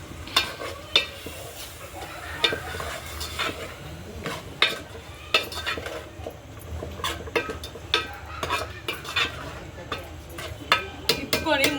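Chicken pakodi masala curry stirred in a pan with turmeric and salt, spoon scraping against the metal in repeated sharp clinks over a steady low sizzle, close by.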